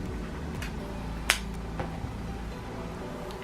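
A single sharp click from an Apple AirPods earbud being put in the ear stands out against a steady low background hum, with a couple of fainter taps afterward.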